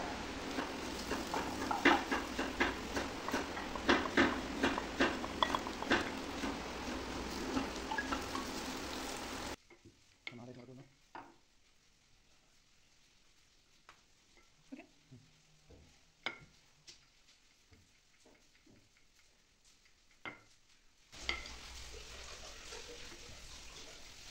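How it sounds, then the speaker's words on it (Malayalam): Green chillies and spice powders sautéing in a pan, a busy crackling sizzle with stirring scrapes that drops out to near silence midway with scattered faint clinks, then the frying hiss returns. "കുറച്ച് പച്ചമുളക് ഇടുന്നു. നല്ലോണം വഴറ്റുന്നു."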